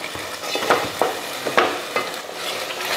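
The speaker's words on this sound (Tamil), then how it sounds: "மசால் போட்டதுக்கப்புறமா ஒரு 2-3 நிமிஷத்துக்கு இது போல் வதக்கிக்கலாம்." Ground masala being sautéed in hot oil for a fish curry, with a steady close sizzle and several distinct scraping stirs of the spoon against the pan at irregular intervals, no voices.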